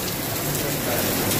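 Heavy rain pours down outside a building in Dubai, a dense, continuous hiss of drops hitting the ground, loud and close with no pauses.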